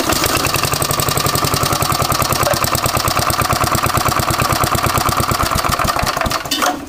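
A Briggs & Stratton lawn mower engine runs after a carburetor repair, chugging loud and close with a fast, even, regular firing rhythm, then cuts off abruptly at the end.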